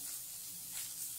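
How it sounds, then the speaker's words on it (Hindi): Chopped onion, ginger and chilli frying in a pan give off a brief, steady hiss with soft crackling swells, heard close and alone. "इसे भी हम डाल के प्याज के साथ कुछ सेकंड के लिए भूनेंगे"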